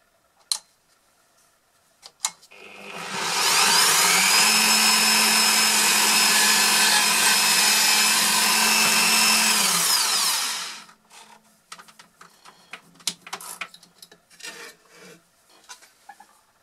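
A power drill bores into a wall while a TV wall mount is installed, a loud steady whine sustained for about seven seconds, bracketed by small clicks and handling noises before and after.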